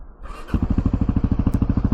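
A Honda motorcycle engine fires up after a brief quiet, then settles into a loud, rapid, regular thumping idle close by.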